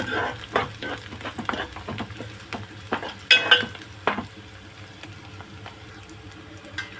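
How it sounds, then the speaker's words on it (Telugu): Onion paste for a spicy mutton masala curry fries with a close sizzle, with quick stirring scrapes and utensil knocks in the first half before settling into quieter frying. "పచ్చివాసన పోయేంత వరకు ఫ్రై చేసుకుందాం"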